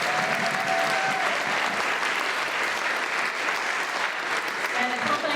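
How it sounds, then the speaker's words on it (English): Applause from an audience at a Martin Luther King Jr. celebration in Brattleboro, Vermont: steady, dense clapping from a crowd, sustained at even loudness throughout without a break. "Please give a big round of applause for"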